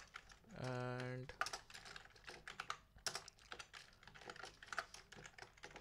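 Typing code on a computer keyboard: a brief burst of quick, irregular keystrokes, close and moderately loud, with a short electronic tone near the start.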